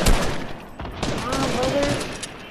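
In a shooter video game, a loud burst of rapid gunfire opens the moment and then trails off into quieter shots, with a voice talking over it.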